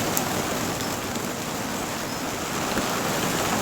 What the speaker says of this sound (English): And as you can hear, it's a mixture of snow and rain.